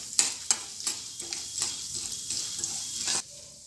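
Urad dal, chana dal, mustard seeds and cumin fry in hot oil while being stirred, making crackling, spattering bursts and scraping strokes up close before the sizzle briefly drops off.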